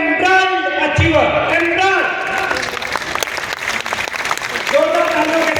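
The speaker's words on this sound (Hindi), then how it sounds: "जोरदार तालियों के साथ में एम्ब्राइड अचीवर का स्वागत करेंगे।" Audience clapping welcomes achievers walking onto a stage at an awards event, a steady wash of applause with music-like tones running throughout and swelling again near the end.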